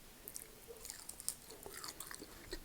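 Someone chews a nacho chip loaded with rice and sour cream, giving close, quiet crunches and bites in a steady, irregular run, with no talking.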